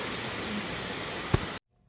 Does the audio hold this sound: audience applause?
no